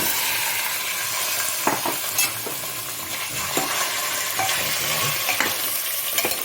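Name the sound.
mutton added and frying in oil, stirred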